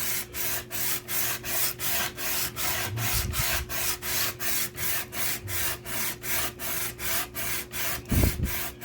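Copper Optimus water block lapped by hand on 180 grit sandpaper, a steady rhythmic rasping scrape in even back-and-forth strokes, close and fairly loud, with a brief thump near the end.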